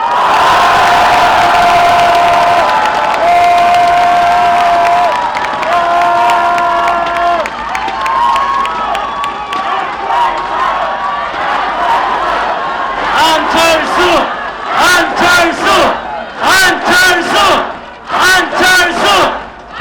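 A large outdoor crowd at a political rally in Gwanghwamun, Seoul, roars with sustained cheering and shouting, then breaks into loud rhythmic chanting and clapping in repeated bursts.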